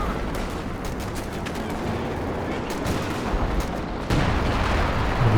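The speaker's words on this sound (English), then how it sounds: "Got another Howie barrage coming in though." Howitzer artillery barrage in Company of Heroes 2, a dense rumbling wash of distant booms and gunfire crackle with a louder impact near the end, continuous under the battle noise.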